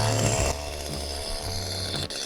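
A chainsaw runs steadily close by, its engine revving hard at first and then settling into a constant droning idle.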